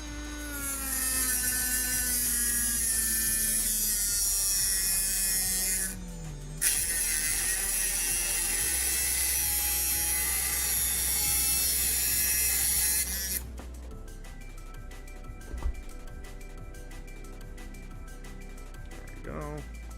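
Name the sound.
die grinder running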